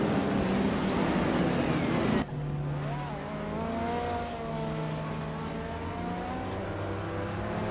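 Race car engines in a racing video game roar continuously and loudly, with a harsh broadband burst for the first two seconds, then a steadier rising whine of revving engines that shifts pitch as cars jostle for position.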